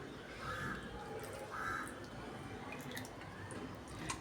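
Fresh spinach leaves going into a bowl of cold water with ice cubes, giving soft wet squishes and small drips at close range, fairly quiet and steady throughout.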